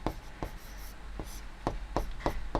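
Hand writing out an equation, a close pen or chalk on a surface making a series of short, sharp scratching strokes in an uneven rhythm.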